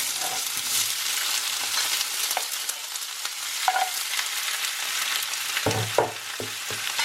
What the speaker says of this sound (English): chicken breast that I cut up, and I already went ahead and blanched these broccoli and carrots, and that's going to be what my stir fries consist of.